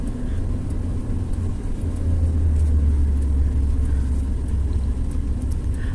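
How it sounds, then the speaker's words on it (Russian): Low rumbling of car engines in a traffic jam nearby, a steady drone that swells slightly in the middle, with no voices. "что-то машины скопились"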